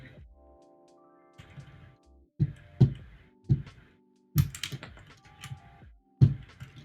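Keycaps being pulled off and pressed onto a keyboard make sharp, close plastic clicks and clacks, scattered irregularly with quiet gaps and soft rustling between them.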